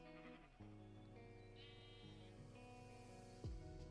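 A sheep bleats with a wavering, tonal cry, heard over steady droning harmonic background sound that resembles game music, with a sharp sweep near the end.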